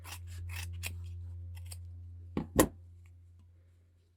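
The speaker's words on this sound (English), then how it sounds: "Trim away the extra felt." Scissors trimming extra felt from a fabric-scrap Easter hare keyring, heard as a few quiet snips followed by two sharp, close cuts over a low steady hum.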